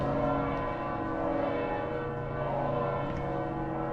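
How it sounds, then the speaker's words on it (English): Church bells peal loudly and continuously in Valletta, Malta, a dense wash of overlapping ringing tones close by, with no voices over them. "Can you hear how loud these bells are?"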